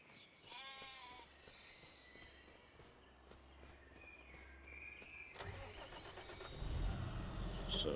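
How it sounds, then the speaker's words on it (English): Hungry sheep bleat in the Farming Simulator 2025 video game, a few short calls early on over a steady vehicle engine hum and footstep-like crunching that grows louder toward the end. "A few hungry sheeps there."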